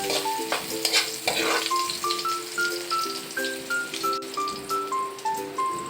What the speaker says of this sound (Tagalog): gigisahin na natin